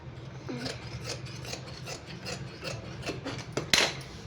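Scissors cut cloth by hand for the sleeves of a coat-model dress, giving soft repeated rasping snips at a steady pace, quiet and close, ending in a sharper louder snip.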